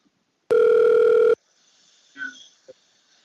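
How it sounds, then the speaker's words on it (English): A telephone ring sounds once, a single loud electronic tone lasting just under a second, followed by a soft click and faint handling noises in an otherwise quiet room. "let me answer some more phone calls"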